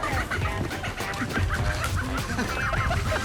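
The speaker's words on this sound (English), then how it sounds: "Not easy to catch a chicken." Chickens cluck and squawk loudly while being chased on a West African island, a busy, continuous jumble of agitated calls with some honking bird sounds mixed in, close by and without speech.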